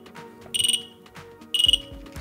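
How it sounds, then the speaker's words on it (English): A Dräger Quaestor 8000 breathing apparatus sounds its low-pressure warning alarm: two short, loud, shrill electronic beeping bursts about a second apart, each a rapid pulsing tone, over quiet mechanical background. "the alarm, which should activate roughly around 55 bar"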